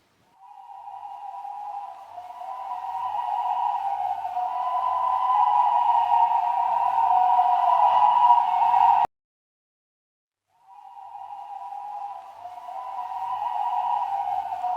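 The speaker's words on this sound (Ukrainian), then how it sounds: "Курличуть журавлі." A dense, steady chorus of cranes calling together, a continuous trumpeting drone that breaks off briefly and then resumes.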